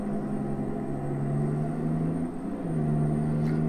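Steady engine drone from an Oshkosh truck driving fast, a low continuous rumble with a slight dip in pitch midway and then a rise, heard from inside or close by with no talk.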